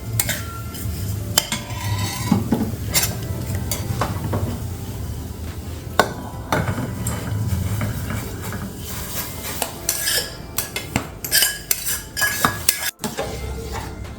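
Metal utensil scraping and clinking against a pot in repeated stirring strokes as vermicelli goes into boiling water, with a low bubbling rumble underneath; no talking.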